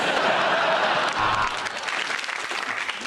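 A television studio audience breaks into loud, sustained applause, steady and dense throughout, tapering slightly toward the end.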